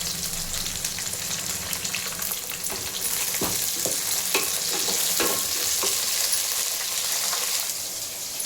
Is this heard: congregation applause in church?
no